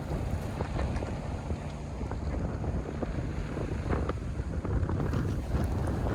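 Strong wind buffets a sailboat approaching Rangiroa atoll in the Tuamotus, a steady loud roar of gusts and microphone buffeting with water rushing along the hull, continuous for the whole stretch with no voices.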